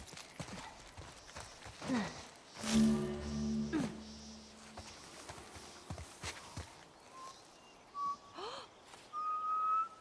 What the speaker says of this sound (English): I'm whistling.